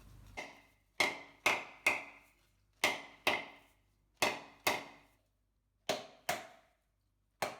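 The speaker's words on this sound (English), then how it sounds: "I take a hammer and hit around the coconut until it cracks open." Sharp, hard knocks from a hammer striking around a whole coconut to crack it open, coming in irregular pairs and clusters with brief pauses, close and alone.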